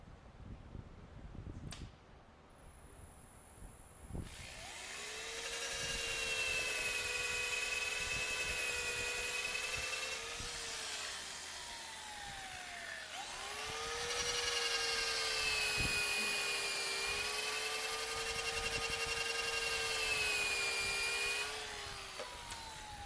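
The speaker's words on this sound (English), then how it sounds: "I should be able to sand both of those and clean up anything that needs to be cleaned up" A power sander works a wooden joint on a snowman project in two long passes. Its loud, steady whine rises and falls with the pressure, broken by a short pause, with a few faint knocks before it starts.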